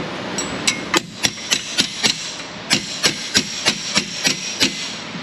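A wrench swung as a hammer strikes an axle bolt on a 2015 Cadillac SRX during a leaking-axle repair, a close series of about fifteen sharp metallic blows in an uneven rhythm, briefly pausing midway, over faint shop background.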